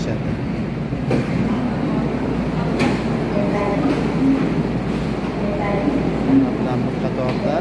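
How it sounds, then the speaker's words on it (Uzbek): A metro train stands at an underground station while its doors open, with a steady mechanical rumble, a couple of sharp clunks and a low murmur of voices in the background. "Bilan bir qatorda poyezdning ham eshiklari ochilar ekan."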